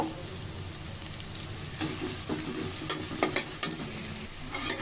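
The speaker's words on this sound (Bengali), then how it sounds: "এক কাপ পেঁয়াজটা বেরেস্তার কালার করে ভেজে নিব" A cup of onions frying in a pan for chicken pulao, a continuous bright sizzle with repeated stirring scrapes and clatter from a utensil, no voices.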